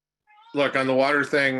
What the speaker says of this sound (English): I am going to again apologize for my cat.